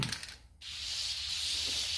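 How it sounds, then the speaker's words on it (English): An aerosol can sprays lubricant along a new Arctic Cat ZR 800 snowmobile slide: a short initial spurt, a brief pause, then a steady close hiss continuing to the end. "spray a good healthy dose of this all the way down the length,"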